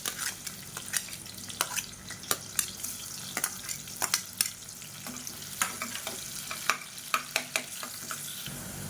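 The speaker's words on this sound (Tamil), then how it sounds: "இப்போ எண்ணெய் நல்லா சூடாயிடுச்சு. மீடியம் சைஸாக ஒரு வெங்காயம் நீளமாக நறுக்குனதை சேர்த்துக்கலாம்." Sliced onion, cut lengthwise, sizzles and fries in hot oil in a pan, a steady crackle broken by sharp pops and stirring clatters all the way through, with no voices.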